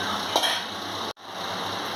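Spices for tempering a South Indian brinjal gotsu sizzle steadily in a pan, a continuous close frying hiss with a brief clink and a momentary cutout partway through.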